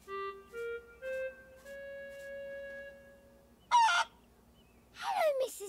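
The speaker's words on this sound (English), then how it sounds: "Hello, Mrs. Chicken." Cartoon chicken character in the My Friend Peppa Pig video game giving short clucking and honking calls, a few tonal bursts over quiet game music, with brief voice-like sounds near the end.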